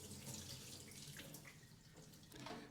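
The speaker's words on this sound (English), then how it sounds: "I'm going to go ahead and wet my sponge" A kitchen sink faucet runs to wet a sponge before hand-washing a Brita pitcher, a steady close stream of splashing water that continues briefly on its own.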